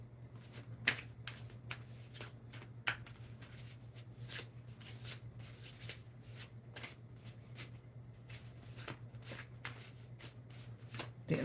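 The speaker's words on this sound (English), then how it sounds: "Pull one more card." Cards from an inner child oracle deck shuffled and handled, a rapid series of close crisp riffling flicks and taps over a steady low electrical hum, no talking.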